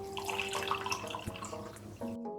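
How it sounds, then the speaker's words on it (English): Hot chocolate Irish cream coffee poured into a mug already holding sugar, a steady close liquid stream that rises in pitch as the mug fills, then stops near the end. "Oh yeah, that's a good pour sound."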